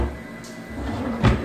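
A kitchen drawer in an empty home being checked at move-out slides open with a short, close scrape and bump near the end, over faint room noise.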